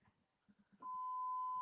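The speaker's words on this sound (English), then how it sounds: "Aren't you supposed to be beeping that out?" A loud, steady censorship bleep cuts in abruptly after a few muffled spoken syllables and holds as a single pure tone to the end.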